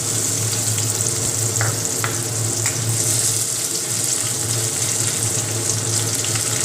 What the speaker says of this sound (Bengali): তেলটা গরম হয়ে গিয়েছে, এবার পেঁয়াজটাকে সোম মাসের মতো তেলে মধ্যে দিয়ে দেব।